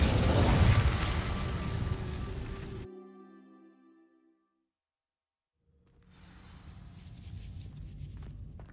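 An Incendio fire spell setting dry vines alight in Hogwarts Legacy, a loud crackling whoosh and burst that cuts to a tonal hum, falls silent, then returns as a rising fiery rush.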